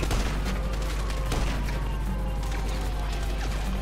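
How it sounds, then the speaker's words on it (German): Rapid gunfire in a chaotic video game firefight, including sniper rifle shots, runs as a dense, constant barrage of loud overlapping bangs with no pause. "ich baller die hier richtig weg mit dem Sniper eiskalt"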